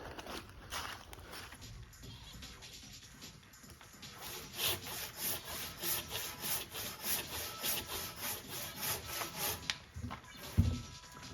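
Rhythmic rasping strokes of a hand saw cutting through firewood, quiet at first, then steady back-and-forth pulls, ending with a soft thump.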